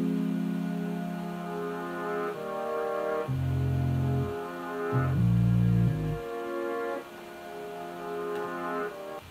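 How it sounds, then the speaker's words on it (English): Reversed piano chords swell upward in slow, rising blocks rather than decaying, a sequence of several sustained chord shapes with low notes growing louder toward each cut-off, alone with no talk. "I took a piano and I reversed the piano sound."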